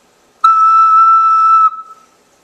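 A single sustained ocarina note rings out clearly and alone for just over a second, then cuts off with a brief fading tail.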